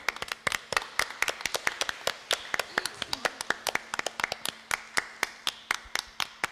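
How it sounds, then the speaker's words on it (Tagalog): A church congregation claps for the gospel during a Catholic Mass in the Philippines, with brisk, steady, rhythmic handclaps repeating throughout, close and clear. "sigla-siglang palakpak para sa mabuting balita"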